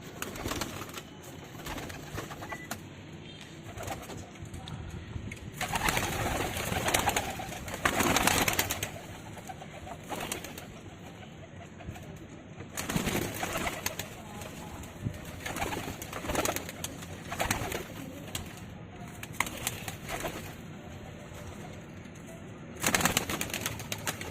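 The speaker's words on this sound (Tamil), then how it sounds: "அதுக்கு முன்னாடி புறாவை திறந்து விட்டுறேன்" Pigeons coo steadily after being let out of their enclosure. Their low, rolling calls repeat throughout, close and continuous, with occasional louder bursts that sound like movement and flapping.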